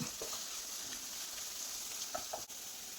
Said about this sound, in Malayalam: എല്ലാം കൂടി ഇട്ട് കൊടുത്തൊന്ന് ഇളക്കി കൊടുക്കാം.